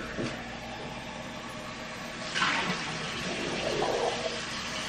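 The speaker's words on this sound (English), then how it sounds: "I mean, you just rinse it out real quick." Water runs steadily while a protein shaker bottle is rinsed out, a continuous broadband rush with a brief louder splash midway, no talking.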